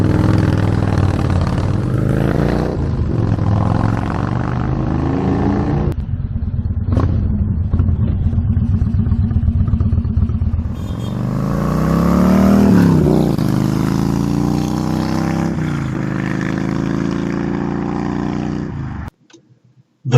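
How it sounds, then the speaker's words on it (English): A Yamaha Striker 1300cc V-twin motorcycle runs loud and close, its engine rumbling at idle, then revving up and falling back through several throttle blips before cutting off near the end. "Yamaha Striker, an American import, 1300cc V-twin."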